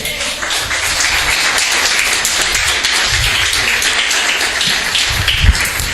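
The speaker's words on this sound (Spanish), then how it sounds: "Un fuerte aplauso al que vive." Loud, sustained applause from a church congregation at an evangelistic revival service, dense clapping filling the whole span with steady intensity and no speech.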